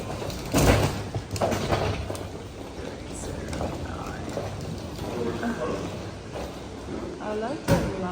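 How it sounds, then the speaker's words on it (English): Elevator doors slide open in a brief mechanical rush, with talking voices and background chatter continuing over the hum of the car throughout. "Doors opening."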